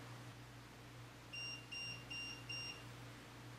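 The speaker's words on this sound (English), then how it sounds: "Can you make it beep again like you just did?" Four short electronic beeps from a meter, evenly spaced and fairly faint, after a moment of quiet low hum.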